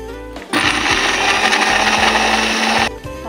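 A kitchen blender grinds spice paste for a Padang-style omelette, switching on abruptly into a loud, steady high whir that holds for over two seconds before cutting off.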